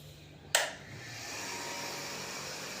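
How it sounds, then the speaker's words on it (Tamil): An electric motor, apparently a water pump at a house, switches on with a sharp click and then settles into a steady whirring hum that holds evenly, close by and with no talk. "மோட்டர் போட்டுடலாம்"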